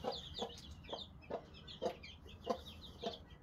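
Twelve guinea fowl kept in a chicken coop give a regular run of sharp, repeated calls about twice a second, fairly faint and slightly distant.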